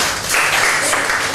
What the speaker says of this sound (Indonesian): Oke, tepuk tangan dulu buat Mas Fadli.